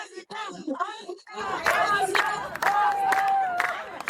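A church audience at an Easter program claps and cheers, a dense burst of applause with shouts and whoops rising after a brief quieter moment.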